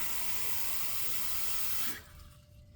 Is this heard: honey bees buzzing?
no